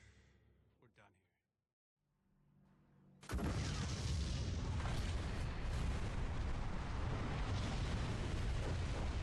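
In the R.U.S.E strategy video game, rockets explode in a sudden massive blast after a moment of near silence, then a dense roaring rumble holds loud and steady to the end, with a voice speaking briefly before.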